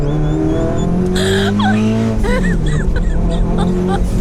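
A tuned 800 hp turbocharged Mitsubishi Evo 8.5 MR pulls hard, its engine note sweeping upward through rising revs, loud and close inside the cabin, with occupants' voices breaking in over the roar.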